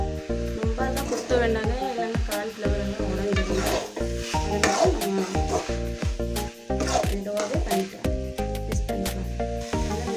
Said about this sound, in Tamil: மசாலாவில் போட்டு விட்டு நல்லா மிக்ஸ் பண்ணிக்கோங்க